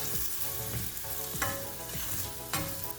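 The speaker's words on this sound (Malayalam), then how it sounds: "ഇതിലേക്ക് ഫ്രൈ ചെയ്ത് വെച്ചേക്കുന്ന വെണ്ടയ്ക്ക ഇട്ട് കൊടുക്കാം. നന്നായിട്ട് മിക്സ് ചെയ്യാം." A spoon stirs fried okra (vendakka) into a coconut stew base in a pan for okra stew, giving steady wet scraping strokes with a couple of louder scrapes over a constant sizzle, close by.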